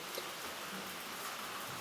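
Steady rain falls outside a community meeting hall on an evening, a dense even hiss of drops with no voices over it.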